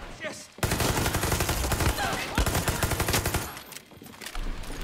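Heavy gunfire from enemies in the video game Far Cry 6 erupts after a brief quiet start, with rapid, dense shots that trail off toward the end. The shots are loud and close, with a few sharp blasts standing out.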